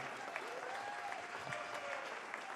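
Audience applause fills a summit hall, a dense and steady wash of clapping that holds at an even level throughout with no pauses, while a faint voice or tone carries underneath.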